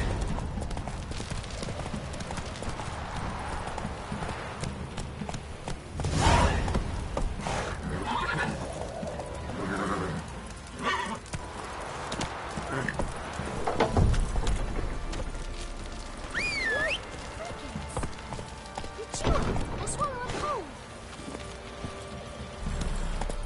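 Roach, a horse in The Witcher 3, gallops with rapid rhythmic hoofbeats and gives several whinnies and snorts, mixed with game sounds and music.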